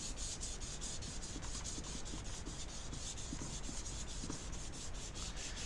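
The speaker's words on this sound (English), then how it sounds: "To the initial sanding, using the hand sander, I used wet and dry sandpaper just to smooth it off." A hand sander fitted with fine wet-and-dry sandpaper smooths an old wooden table top, making a continuous close, even, rhythmic rubbing hiss with faint regular strokes.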